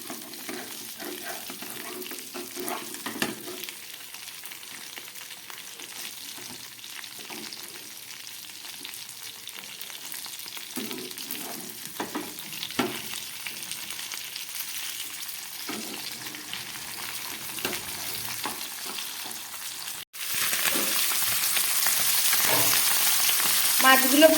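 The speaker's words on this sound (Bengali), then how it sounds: "পমফ্রেট মাছগুলো এক পিঠ ভাজা হয়ে গেছে।" Pomfret fish frying in a pan, a steady soft sizzle with occasional stirring clatters, then a louder, denser hiss in the final seconds.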